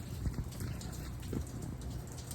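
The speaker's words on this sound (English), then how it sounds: "put it back fast because it's raining" Rain falling steadily outdoors during roadside repair of a 2017 Chevrolet City Express, a continuous soft patter of drops with a few louder splats, no talk.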